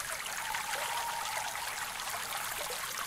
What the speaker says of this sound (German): Oh, das ist mit dem Wasserplätschern